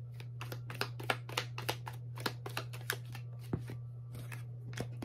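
Tarot cards are shuffled close up in a rapid, regular run of crisp slaps and riffles over a steady low hum.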